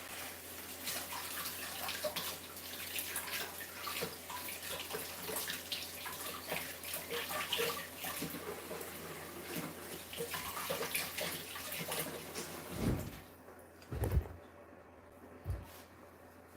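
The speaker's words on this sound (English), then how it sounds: "Fill this up with water." Water from a tap runs steadily into a container for over ten seconds at low level, then cuts off, leaving a few faint drips and small clunks.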